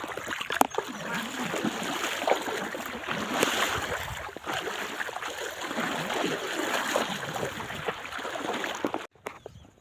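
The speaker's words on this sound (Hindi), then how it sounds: "अने आ छे अमारी बनास नदी।" Water of the Banas river rushing and splashing steadily over a sandy bed, a close, continuous broadband wash that cuts off abruptly near the end.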